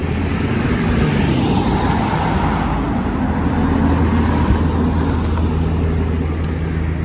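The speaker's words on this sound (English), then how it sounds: "Oh, we got a car here?" A car passing by outdoors, a broad steady rush of engine and tyre noise with a low rumble that holds throughout, with no talk over it.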